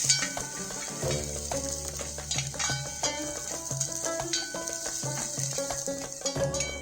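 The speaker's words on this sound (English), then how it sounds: "Let's add in desiccated coconut, coriander seeds, whole, and stir this till it turns slightly golden brown in color" Desiccated coconut and whole coriander seeds being stirred in a pan: a spatula scrapes and taps against the metal in irregular strokes over a soft sizzle, close and fairly loud with no talking.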